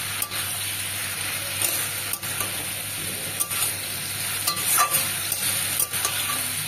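China puti fish chorchori sautéing in a pan with a little water, a steady close sizzle and hiss with occasional spoon scrapes and stirring clatter throughout.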